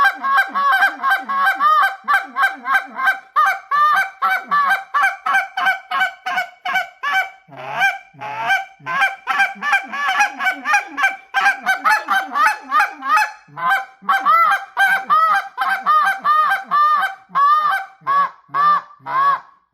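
A goose call blown semi-open gives a steady run of loud, close honks and clucks in rapid rhythmic bursts, with a low, aggressive murmur under the calling throughout.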